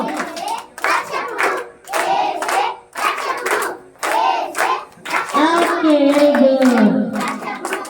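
Group of children clapping hands in repeated bursts, several claps together then short pauses, with kids' voices and talk mixed in and a louder chattering stretch near the end.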